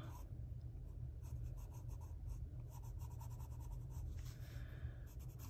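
Colored pencil scratches across paper in quick short strokes while outlining a leaf, a close, quiet scratchy rhythm with soft breathing in the background.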